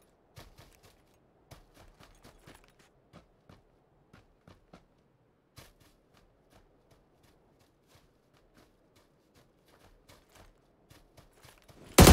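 Sparse gunshots in the PUBG battle royale game, a scattered series of sharp single cracks and short bursts at varying distances over a quiet background, ending with a loud close blast.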